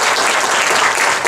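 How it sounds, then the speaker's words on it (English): Audience applause at a Mobile Monday Silicon Valley tech meetup on mobile health, a continuous, loud, dense clapping from a room full of people with no talk over it. "Give Ross a hand of applause."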